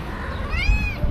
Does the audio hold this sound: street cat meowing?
yes